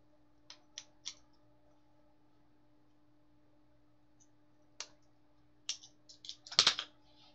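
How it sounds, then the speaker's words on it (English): Scissors snip through cord to cut it into four pieces, sounding as a few sharp isolated clicks early on, then a quick cluster of close crisp snips near the end over a quiet room hum. "So I'm gonna cut this into four"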